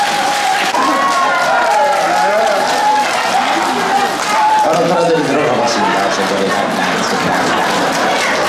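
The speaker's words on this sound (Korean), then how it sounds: "박수로 모셔드리겠습니다." Audience applause at a song festival opening in a Seoul theater hall, a loud continuous clapping wash with crowd murmur, while someone talks over it into a microphone.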